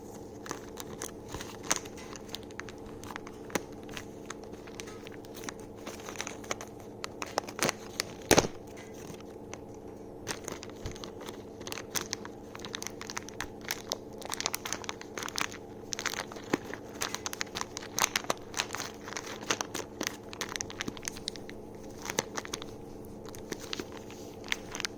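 Plastic packaging of Traxxas Rustler 4x4 VXL RC car parts being torn and opened by hand, a long run of close, quiet crinkles, crackles and sharp snaps in irregular bursts, with no talk.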